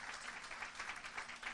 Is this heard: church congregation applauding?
yes